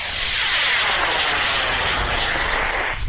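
A rocket engine ignites at a test stand at Marshall Space Flight Center, giving a powerful, sustained broadband roar that fills the scene without pause for about three seconds, with no voices.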